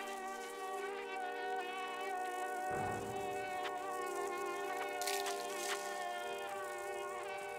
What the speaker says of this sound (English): That was a mosquito.